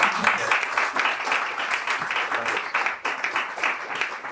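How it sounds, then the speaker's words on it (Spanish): Steady audience applause at a digital talent conference panel, many hands clapping at once, fairly loud and continuous, a few voices faintly mixed in. "Un fuerte aplauso, por favor."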